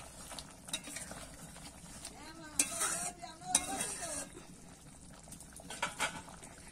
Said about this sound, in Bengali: দিয়ে দেবো গরম মশলা গুঁড়ো, দিয়ে একটু এবার নেড়ে নেব